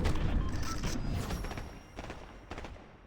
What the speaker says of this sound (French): Toutes les teams nous tirent dessus là.